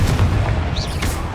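A Confringo spell explosion from a Harry Potter video game, a single loud, close, deep boom that rumbles on briefly, followed by a short swooshing tail.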